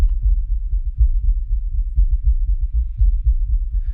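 A low-frequency LFE drum layer from the Heavyocity Damage Machina percussion library throbs in a steady rhythm of deep, booming hits, loud and alone with no voices.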